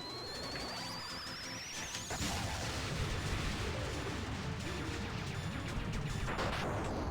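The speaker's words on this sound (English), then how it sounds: "Flashbang!" A flashbang grenade goes off in the video game No More Heroes: a rising whistle leads into a sudden loud burst that leaves a dense, rumbling wash of noise.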